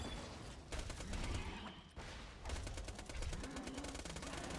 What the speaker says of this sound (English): Now I can go for my shock weapon to drain their shields.